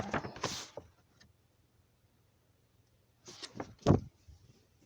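A sliding patio door rolls along its track with a rattling slide, then a quiet pause, then more scraping movement and a firm thud near the end, close and fairly loud with no speech.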